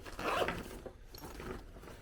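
A small zipper pouch inside a night vision helmet bag is unzipped in one quick, close, rasping pull, followed by soft fabric handling and faint rustles.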